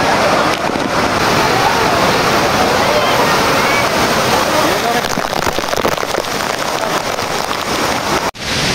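Waterfall inside the Tonaltongo caves pours as a steady, loud, close rush of broadband water noise that fills the whole stretch without a break.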